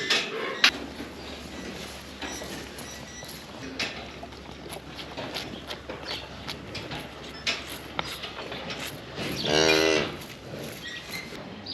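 A young calf on a farm moos once, a drawn-out bawling call near the end, heard over a busy background of clattering and rustling close by.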